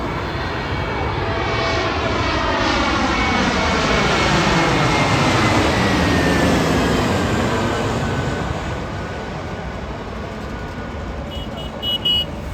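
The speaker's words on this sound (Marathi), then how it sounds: "फायनली लँडिंग तुम्हाला दाखवली मी." An airliner passes low overhead on its landing approach to Navi Mumbai International Airport at night, its engine roar swelling loud and sweeping in pitch before fading away, with no voices.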